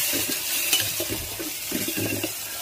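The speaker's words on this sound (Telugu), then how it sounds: "టమోటా ముక్కలు బాగా ఆయిల్లో ఫ్రై అయ్యేలా చేసుకోవాలి" Tomato pieces frying in oil in a pan, a steady soft sizzle close by with intermittent stirring scrapes.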